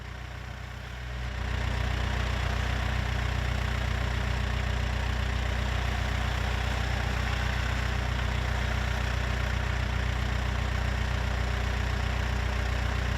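A machine fitted with an Artillian grapple works at removing an old well or cistern, its engine holding a loud, steady, low droning hum that swells up early and then runs continuously.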